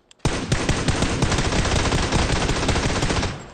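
Rapid automatic gunfire from a shooter video game, a loud continuous burst of many closely spaced shots lasting about three seconds with no talking.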